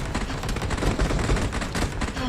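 Warning shots fire in a shooter video game: dense, rapid gunfire crackles without a break, loud and close, as a continuous barrage.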